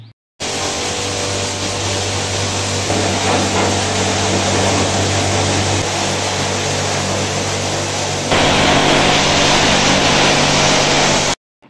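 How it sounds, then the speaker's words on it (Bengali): Pressure washer spraying water to clean the indoor unit of a GREE air conditioner, a loud, steady hissing roar of spray and motor that grows harsher and louder partway through, with no talk. "ভিডিওর সামনে অংশ আপনারা দেখতে পারবেন কিভাবে আমরা প্রেসার ওয়াশার দিয়ে হচ্ছে ইনডোর ইউনিটটি ক্লিন করি"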